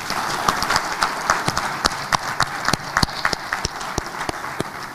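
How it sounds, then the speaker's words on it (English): Scattered applause from convention participants in a hall in Abuja, Nigeria, with individual claps standing out sharply over a softer clapping bed for five seconds. "please give yourselves a round of applause."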